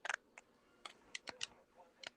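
A few sharp, irregular computer keyboard clicks come through faintly on a voice-call microphone, scattered in short bursts over a couple of seconds.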